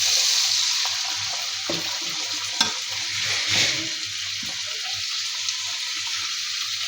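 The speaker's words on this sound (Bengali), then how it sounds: "দিয়ে দিব কিছুটা গরম পানি" Hot water poured into frying ginger-garlic paste in a pan, giving a close sizzle and bubbling hiss with stirring clinks and scrapes throughout.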